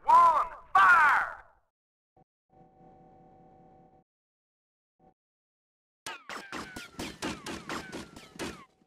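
A firing squad in GTA: Vice City lets off a rapid volley of sharp gunshots, about ten cracks in quick succession near the end. Before it there are a couple of loud shouted commands and a faint mechanical hum.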